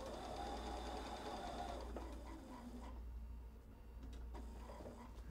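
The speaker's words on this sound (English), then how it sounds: "I'm going to sew to this upper corner" A sewing machine stitches up to a corner of a quilt-as-you-go insulated shopper tote, running steadily and close for most of the stretch before slowing briefly near the end.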